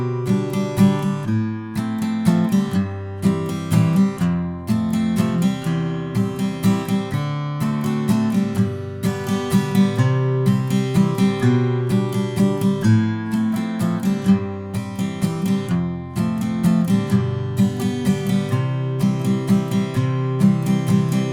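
An acoustic guitar strums a song's verse and chorus chord progression in a steady, driving rhythm, full and close, with no voices over it.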